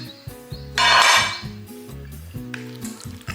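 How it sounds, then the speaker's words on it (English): A Pyrex glass baking dish is handled in a home kitchen. It gives several light clinks and knocks, then a brief scraping rush, all close up with no talking. "So I'm going to use this Pyrex"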